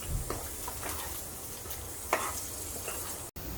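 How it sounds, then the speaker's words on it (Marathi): Masala roasting in oil on a low flame for Nashik-style vajdi: a steady soft sizzle with occasional scraping stirs and one sharper clink, close and without voices. "अगदी तेल सुटेपर्यंत आपल्याला भाजून घ्यायची आहे मंद आचेवरतीच भाजायचा आहे मसाला"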